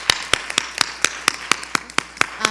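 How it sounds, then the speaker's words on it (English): A meet-the-candidates night audience applauds five school board candidates, a sparse set of sharp, separate claps in a loose, uneven rhythm, close by and fairly loud, like only a few people clapping. "Let's give them one more round of applause"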